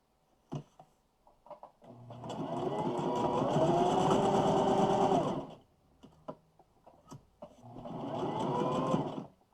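A sewing machine stitching quilt pieces runs in a steady whirring burst for a few seconds, stops, then starts again briefly, with small clicks and handling noises in between.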